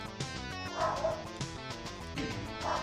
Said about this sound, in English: doggo barking